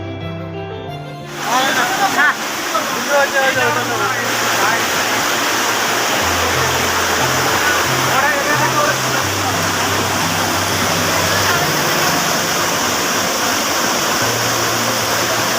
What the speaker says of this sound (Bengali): পাহাড়ের উপর থেকে যে জলটা পড়ছে কত স্পিডে